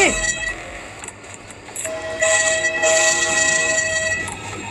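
Train horn from the Choo Choo Charles video game, a sustained tonal blast rising over game ambience and lasting several seconds, fairly loud with no speech.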